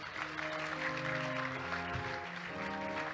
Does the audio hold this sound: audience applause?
yes